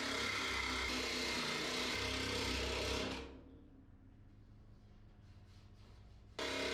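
A wire wheel on a power tool scours surface rust off a chopped Chevy's thin body panel before welding: a loud, steady whirring grind for about three seconds, then quiet, then the tool starts up again at the end.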